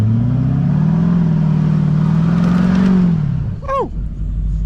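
A four-wheel-drive vehicle stuck in mud on a farm field revs loudly and steadily for about three seconds, then the engine note drops away with a brief clatter.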